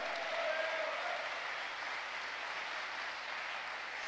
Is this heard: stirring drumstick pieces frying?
no